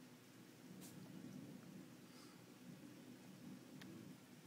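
A severe morning thunderstorm pours heavy rain in a steady, even hiss with a low rumble of thunder beneath, faint and continuous, with no talk.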